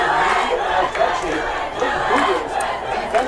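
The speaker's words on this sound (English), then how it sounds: "This crowd's getting into it." A high school varsity football crowd at a night game between Turner and Clinton roars and cheers steadily, a dense wash of shouting voices with a few louder swells.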